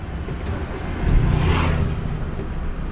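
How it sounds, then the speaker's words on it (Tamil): A car engine turns over and catches on the ignition key during a driving-school lesson, swelling into a steady low rumble that idles on, close and fairly loud, with no talk. "சாவியை ஆன் பண்ணி ஸ்டார்ட் பண்ணிக்கோங்க"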